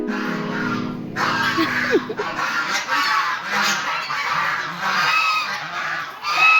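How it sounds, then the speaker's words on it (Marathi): Geese or swans honk loudly and repeatedly, a flock calling close by in overlapping, raucous bursts with no speech. "आता आपल्या राजहंस पक्ष्यांची खूप मज्जा आहे"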